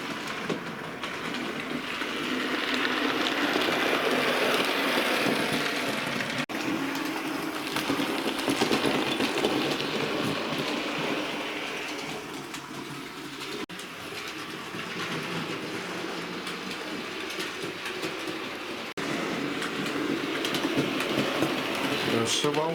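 A model A1 Pacific locomotive, Sir Walter Scott, runs along a model railway track, giving a steady mechanical whirring and rolling clatter that holds throughout, with a voice talking over it.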